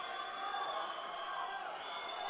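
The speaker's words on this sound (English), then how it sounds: "The crowd is going absolutely bonkers behind us." A crowd at an MMA fight roars in a steady, broad wash of cheering and shouting, fairly distant and unbroken, with no clear individual voices standing out.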